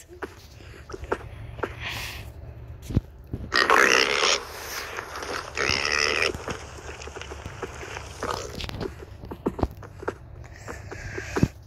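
A group of pigs in the Minecraft video game grunts and oinks repeatedly, with short snorts and sniffs scattered throughout and a few louder bursts of squealing noise in the middle.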